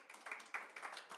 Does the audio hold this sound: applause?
yes